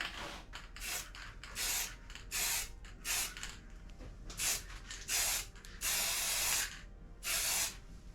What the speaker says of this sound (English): I've grabbed out some spray paints and some markers. So I'm going to spray this sort of around my